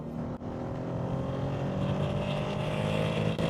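A Renault Alpine A310 engine drones steadily and loudly from inside the car while it is driven, with a brief dip near the start and another near the end as gears change.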